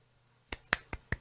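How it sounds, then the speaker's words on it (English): Four quick, crisp hand claps ring out close and faint, evenly spaced at a brisk pace over about a second, with nothing else heard. "I did like a little round clap there"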